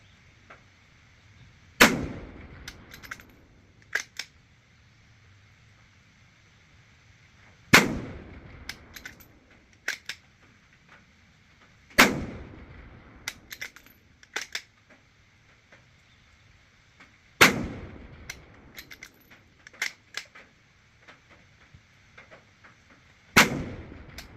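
Five loud rifle shots from a 6 GT PRS precision rifle, spaced several seconds apart, each a sharp crack with a ringing decay, with small clicks and bolt sounds between them and no talking.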